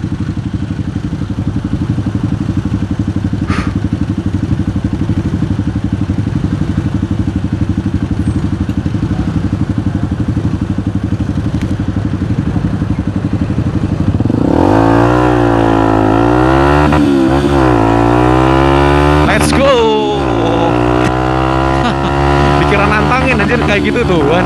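A Yamaha R25 motorcycle engine idles with a steady, close rumble, then revs repeatedly in rising and falling bursts, while someone talks over it.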